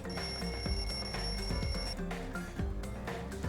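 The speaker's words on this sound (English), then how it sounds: "The lounge's wall clock alarm started ringing at 5:30." Wall clock alarm ringing in a lounge in the video game Danganronpa 2: Goodbye Despair, a steady electronic ring with sustained high tones that stop partway, over layered game music.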